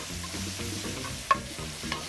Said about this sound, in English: We'll stir this spinach up.